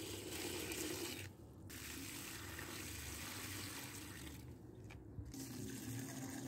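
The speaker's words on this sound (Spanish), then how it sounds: "Ahorita les voy a poner un poco de agua" Water pours steadily onto dry garden plants in a faint, continuous splashing hiss, with two brief breaks in the flow.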